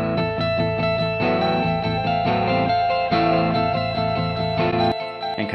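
Electric guitar through a delay effect, the lead part mixed louder than the rhythm guitar, playing repeating distorted notes with echoing trails; loud and continuous, no talking.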